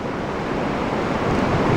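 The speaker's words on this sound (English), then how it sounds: "This is the Huron River." Wind buffets the microphone beside the Huron River with rushing water beneath, a steady, loud broadband roar with no voices.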